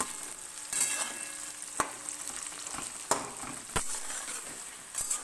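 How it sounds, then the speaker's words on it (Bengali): A medium-sized onion fries in a pan for Bengali chicken curry, giving a continuous close sizzle broken by several sharp clacks of a spatula stirring against the pan. "এবার পেঁয়াজটাকে আমি ভালো করে ভেজে নেব।"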